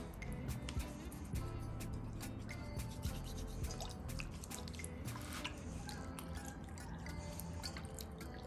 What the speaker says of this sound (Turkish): Bir damla sudan alıyorum.